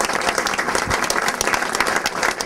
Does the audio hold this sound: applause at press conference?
yes